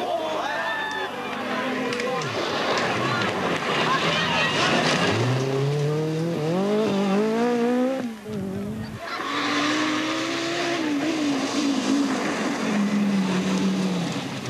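Peugeot 205 Turbo 16 and Audi Quattro Sport rally cars race hard through the 1984 world rally season. Engines rise and fall loudly with rapid gear changes and tire squeals, and a voice talks over them throughout, with a short dip near the middle.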